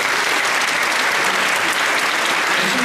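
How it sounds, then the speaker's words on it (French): An audience at a promotion ceremony applauds, a thick continuous wash of clapping at steady volume from start to end with no pauses. "Voilà un bel exemple qui mérite vos applaudissements."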